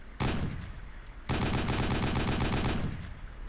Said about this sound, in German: Ich schieße jetzt da hinten mal auf die Kirchen.